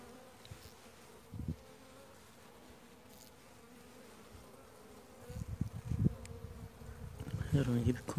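Honeybees buzz around an open hive of a weak colony, a continuous low drone close by with louder swells of buzzing toward the end.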